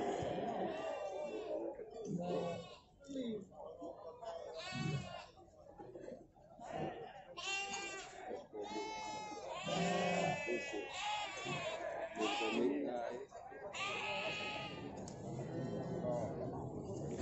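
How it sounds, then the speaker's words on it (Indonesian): Local gembel sheep at the Ngadirejo livestock market in Temanggung bleat repeatedly in short wavering calls, mixed with close crowd chatter and some laughter throughout. "domba lokal gembel ya."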